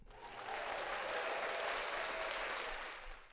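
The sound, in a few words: applause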